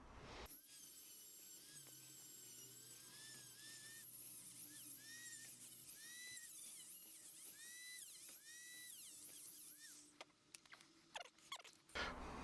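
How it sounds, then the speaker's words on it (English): Dremel rotary tool with a wire wheel cleaning the crankcase of a Yamaha 200 engine, a shrill, close whine that keeps shifting pitch as it bites, then cuts off into a few scattered clicks. "So I'm going to take a Dremel and a wire wheel."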